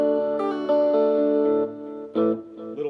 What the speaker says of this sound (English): Let's add a little delay